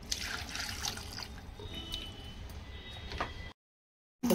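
Water poured into a pan of jaggery for syrup: a soft, close trickle and splash lasting a few seconds before stopping abruptly.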